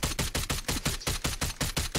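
Rapid automatic gunfire in a video game, a steady burst of about a dozen evenly spaced shots over two seconds, loud and close with no talking.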